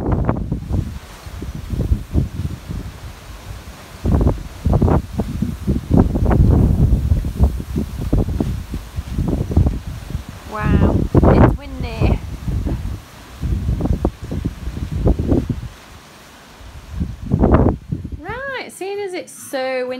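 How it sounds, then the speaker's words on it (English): Gusty wind buffets the microphone in loud, uneven bursts throughout, with brief rustling and a few squeaky tones near the end. "Seeing as it's so windy outside"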